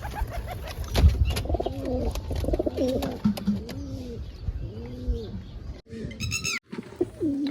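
A pigeon sitting on eggs in a pigeon setup gives repeated soft, rolling coos in a steady rhythm over background noise, followed near the end by a brief higher chirping.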